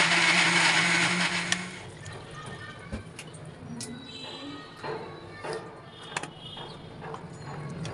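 An electric blender grinds ginger, loud and whirring at first, then cuts out, followed by quieter clinks and liquid sounds in a kitchen.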